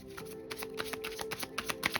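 A deck of tarot cards is shuffled during a love reading, giving a quick, continuous run of crisp riffling flutters and soft slaps, close up and alone without talk.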